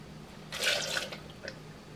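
Chili cooking water ladled into a red salsa, a brief burst of liquid pouring from about half a second to one second, followed by a small trailing splash, fairly quiet and close.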